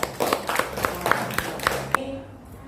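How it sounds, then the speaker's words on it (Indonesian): Classroom audience claps in a quick rhythmic burst of about seven sharp claps, fairly close, fading out after two seconds into quiet room tone. "beri tepuk tangan untuk"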